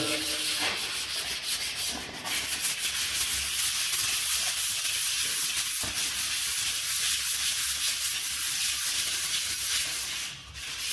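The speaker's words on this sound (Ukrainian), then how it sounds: "До речі, дуже гарно" Steady, continuous scratchy rubbing of sandpaper over acrylic putty on a decorative piece, close and fairly loud, with even back-and-forth strokes throughout.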